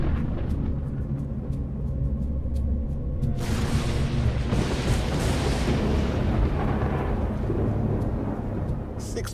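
A loud, deep roll of thunder during a storm in Yosemite Valley rumbles on for several seconds, with a sharp crack midway and a heavy low rumble throughout.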